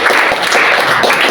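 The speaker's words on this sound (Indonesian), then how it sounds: "Kasih tepuk tangan yang meriah." Church congregation at a Sunday service breaking into loud, dense applause, continuous clapping from many hands filling the room.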